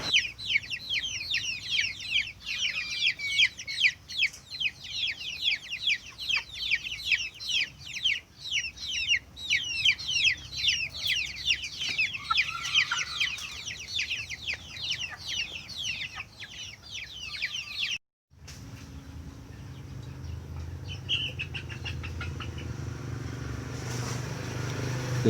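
Young chicks in a coop peep in rapid, high repeated calls, a busy close chorus that cuts off abruptly partway through, followed by muffled low rumbling and a few faint chirps.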